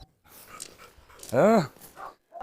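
A rescued injured dog, a poodle or rottweiler from a shelter, gives one loud, tonal bark-whine in the middle, with faint fainter whimpers around it and people talking nearby.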